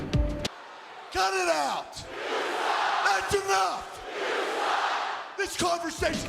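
A wrestling arena crowd jeers a wrestler with a rhythmic mass chant, a broad roar rising and falling in repeated phrases across the full hall, interleaved with a voice speaking loudly over it.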